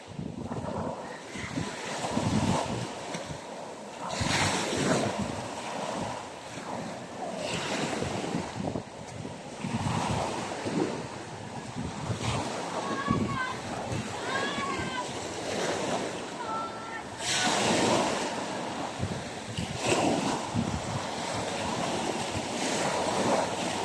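Sea waves washing onto a shore, a steady rushing surf with wind buffeting the microphone, while people talk intermittently over it.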